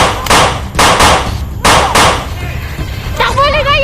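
Several loud, sharp bangs ring out in a tense drama scene, a quick cluster of gunshot-like cracks with ringing tails, followed by a brief pause and a rising, wavering cry.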